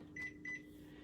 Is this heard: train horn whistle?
no